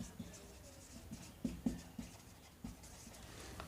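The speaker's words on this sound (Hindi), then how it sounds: "यहाँ टेंस चेंज लिखते हैं," Chalk or marker tapping and scraping on a classroom board during a grammar lecture, a series of short distinct knocks and strokes at an uneven pace, fairly faint with no talking.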